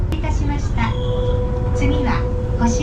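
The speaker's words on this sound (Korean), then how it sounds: "마을 사이사이로 느리게 지나가는 에노덴은 창밖을 구경하는 재미로 서서 가도 힘들지 않게 느껴져요." Enoden train rolling slowly through the town near Kamakura, Japan, heard from inside the carriage as a steady low rumble with faint squeals, under voices of passengers talking nearby.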